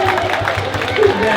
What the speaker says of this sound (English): Can we have a clap for everybody?